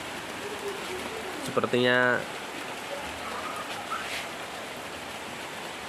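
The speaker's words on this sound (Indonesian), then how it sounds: "ini posisinya hujan deras ya" Heavy rain falling outdoors during bonsai pruning, a steady dense hiss throughout, with someone speaking briefly over it.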